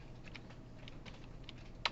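Fingers type on a computer keyboard while code is entered during a programming lecture: quiet, irregular key clicks scattered throughout, with one sharper, louder keystroke near the end.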